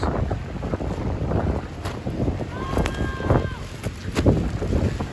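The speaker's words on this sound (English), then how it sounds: "Man, it is windy out tonight, guys." Loud gusting wind at night on a Midtown Manhattan street during a rainstorm buffets the microphone in rumbling surges, with scattered clicks and brief whistling tones amid the outdoor noise.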